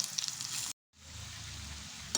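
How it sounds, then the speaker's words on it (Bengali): Potatoes for mutton biryani sizzle steadily in hot oil nearby, a bright crackling hiss broken by a short silent cut before the frying resumes. "আলুগুলো সব ভাজা হয়ে গেছে"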